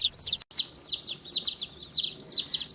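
Day-old baby chicks peeping in a warm indoor brooding room, rapid bright chirps repeating in dense bursts with brief pauses, close and clear with no talking.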